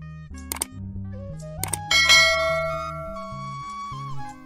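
Ringing notification-bell sound effect, a few bright metallic dings and a sustained chime with lingering tones over a soft musical backing, no talking.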